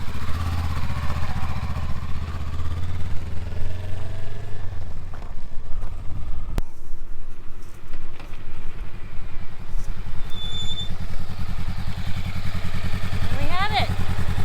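A Honda Rebel 500 motorcycle fitted with a Mustang solo tripper seat is ridden nearby, its engine droning steadily and rising and falling throughout, with people talking over it.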